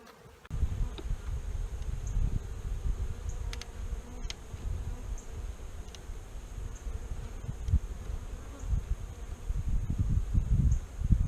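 Honey bees swarm around an open, somewhat aggressive hive during an inspection, their steady buzzing close and continuous, with soft rustling and a few individual bees droning past.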